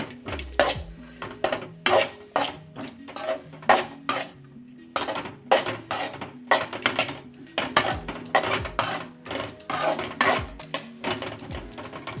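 Cooked rice being tipped into a pan and mixed while making tomato rice, heard as rapid, close metal spoon clanks and scrapes against the pan in a busy, uneven rhythm without speech.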